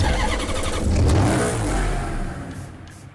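Loud startup of a Maserati Gran Turismo S in Need for Speed Hot Pursuit Remastered: the engine fires with a sharp rev flare that swells, then eases down toward a quieter idle over a few seconds.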